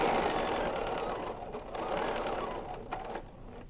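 A Bernina sewing machine free-motion quilting a placemat runs in a steady, fast mechanical whir, easing briefly in a couple of spots before picking back up.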